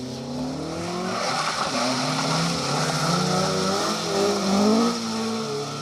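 A Triumph TR7 rally car roars past on a historic rally stage, its engine loud and sustained with rising and falling revs and tyre squeal, a continuous close pass without speech.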